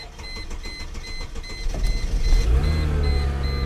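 In a Chrysler Crossfire Roadster low on gas, a repeating electronic key-in-ignition beep chimes steadily while the engine cranks and then fires up into a low, rumbling idle.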